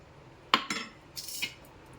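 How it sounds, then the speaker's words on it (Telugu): A utensil clacks and scrapes against a vessel several times in quick, short strokes while cooked dal is mashed with salt; the strokes are close and fairly crisp over a quiet background, with no talking. "ఇందులో కొంచెం సాల్ట్ వేసి పప్పు రుద్దుకుందామండి"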